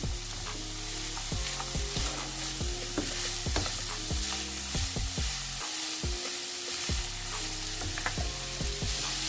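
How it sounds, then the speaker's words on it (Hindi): Kabuli pulao ingredients fry in a pot with a loud, continuous sizzle, broken by frequent scraping and stirring strokes of a utensil. "इसको हम तकरीबन 3 से 4 मिनट फ्राई करेंगे"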